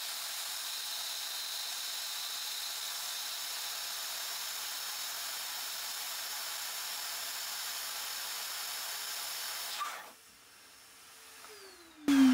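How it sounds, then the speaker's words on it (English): A powerful household vacuum blows air into the intake of a Yamaha TTR125 dirt bike engine, a steady loud rushing hiss for about ten seconds that then cuts off, followed by quiet and a brief louder noise at the end. "I don't have a good air compressor. I'm using my vacuum that's pretty powerful."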